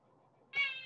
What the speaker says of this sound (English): I have a noisy cat. He's probably going to interrupt us.